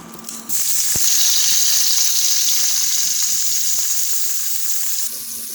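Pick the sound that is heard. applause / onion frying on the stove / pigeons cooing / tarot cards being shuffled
onion frying on the stove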